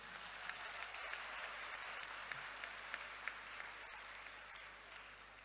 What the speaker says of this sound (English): your applause shows that you are ready for this engagement